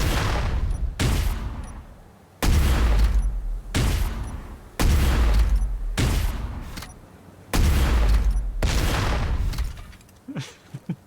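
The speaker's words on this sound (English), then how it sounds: "you can shoot rockets at Ostuga as well" Rockets firing and exploding in a video game dogfight, a string of loud booming blasts in rapid bursts with brief gaps, ending in softer thuds.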